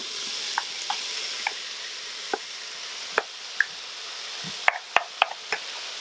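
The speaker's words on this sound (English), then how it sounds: "Now just go ahead and add in your potatoes." Potatoes are stirred into spiced masala in an Instant Pot, with a quiet background hiss broken by sparse spoon clicks and taps against the pot, a small cluster coming near the end.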